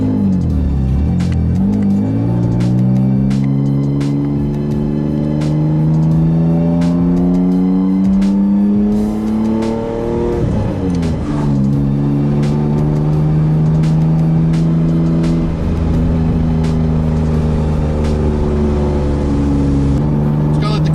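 A car out on a test drive after a driveshaft and carrier bearing replacement, its engine humming loud and close with rising revs through the gears, a brief lift near the middle, then pulling steadily again.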